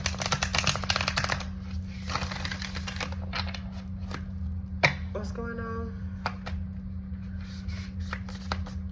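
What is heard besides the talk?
shuffling playing cards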